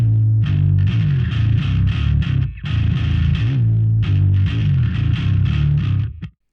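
A Jazzmaster guitar played as bass through an Ampeg amp emulation and 8x12 cabinet, miked with an AKG D112: a deep, gritty bass line plays steadily and loud, with thick distorted low notes and brief breaks before cutting off.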